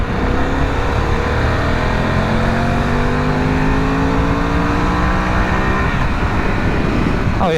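Harley-Davidson Pan America motorcycle, a 150-horsepower adventure bike, accelerating hard to overtake on the road, engine pitch climbing steadily through a loud close roar with heavy wind noise, then easing off near the end.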